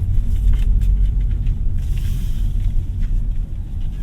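A 2025 Hyundai Elantra with a naturally aspirated 1.6-litre engine drives along as the revs build. A steady low engine rumble mixes with road noise throughout, heard from inside the cabin.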